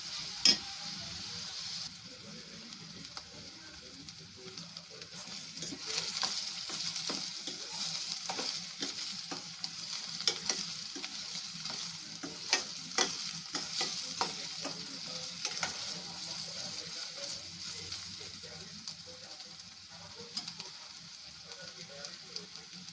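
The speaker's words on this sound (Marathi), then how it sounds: "कांदे लाल होईपर्यंत आपण ते भाजून घेऊया." Onions fry in oil for a Maharashtrian prawn curry, giving a continuous moderate sizzle broken by frequent scraping and tapping of a spoon stirring them in the pan.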